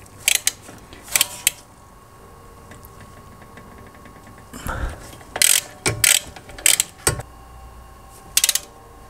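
Ratchet wrench clicking in several bursts while loosening the brake caliper bolts on a Tesla Model 3, close and fairly loud, with pauses between bursts.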